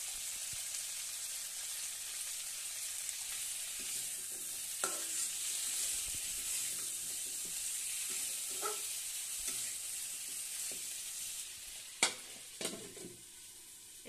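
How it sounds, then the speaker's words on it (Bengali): Eggplant pieces sizzling steadily as they are stir-fried in a pan for a fish and eggplant curry, a continuous frying hiss with a few sharp clinks and stirring scrapes toward the end. "এখন আমি এই যে বেগুনগুলোকে দিয়ে দিচ্ছি, এখন এরপর এটাকে ভালো করে নিয়ে একটু কষিয়ে নিতে হবে।"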